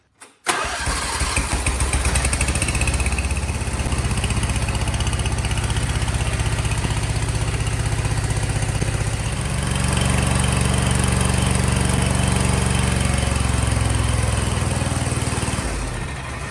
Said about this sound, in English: With the air filter removed, I'm now going to test the engine again.